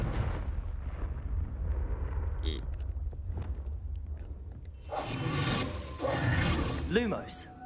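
A Confringo fire spell from Hogwarts Legacy bursts into a loud, roaring blast with crackling rumble that swells midway and trails off, set over steady game ambience and music.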